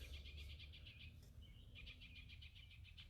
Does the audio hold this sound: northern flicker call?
yes